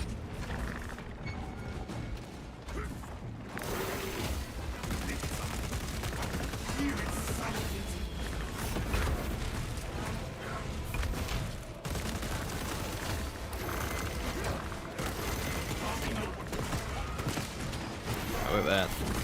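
A video game gun fires in rapid, dense bursts that pound almost nonstop over a loud battle din, with a voice talking faintly underneath.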